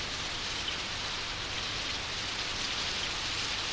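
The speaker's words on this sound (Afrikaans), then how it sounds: "Ek glo dit nie dat dit begin reën." Rain falls steadily in a Moomin cartoon, an even, constant hiss with no pauses or voices.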